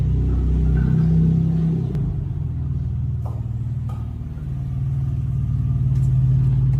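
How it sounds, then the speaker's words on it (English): A Porsche 911 drives by with a low, steady engine rumble that holds close and fairly loud throughout, swelling slightly near the end. "she's driving either in or out in a beautiful, I think it's a 911 Porsche"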